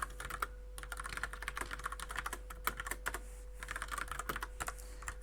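Code being typed on a computer keyboard in a steady, close run of quick clicking keystrokes with brief pauses, over a constant low electrical hum and no speech.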